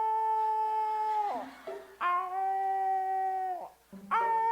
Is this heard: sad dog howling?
yes